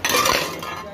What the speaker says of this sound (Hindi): छोटी छोटी कढ़ाई है, बहुत वेटेड है, मतलब भारी है, छोटी है, बहुत छोटी है